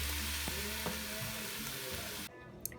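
Food sizzles and crackles in a hot pan with a few soft utensil clicks, then the frying noise abruptly drops away near the end.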